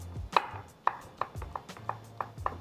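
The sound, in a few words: knife chopping cucumber vegetables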